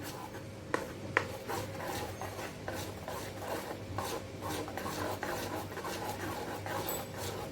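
A spoon stirs thick gram flour batter for kothimbir vadi, breaking up lumps with a continuous soft scraping and rubbing, with a couple of sharp knocks against the bowl near the start.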